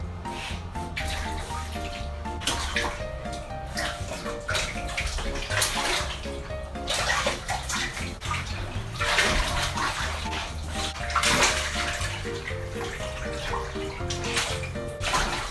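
Water sloshes and splashes continuously in a filled bathtub as a small-clawed otter swims while a man washes his body and hair nearby, a steady close wash of sound with what seems to be music running underneath.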